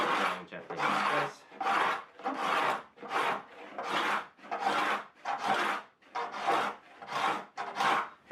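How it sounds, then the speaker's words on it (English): A scraper being drawn over a binding strip on a wooden guitar fingerboard, about eleven close, even rasping strokes in a steady rhythm. "while I'm scraping this binding strip, I want to make sure that this part of the scraper is down"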